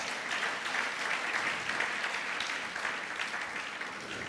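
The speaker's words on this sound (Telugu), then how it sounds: "ప్రభు మాట్లాడుతున్నాడని నమ్మిన వాళ్ళు చప్పట్లు కొట్టండి." A church congregation claps steadily at a prophetic ministry service, an even, continuous wash of applause with no pauses.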